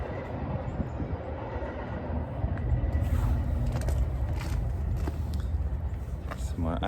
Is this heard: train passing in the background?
yes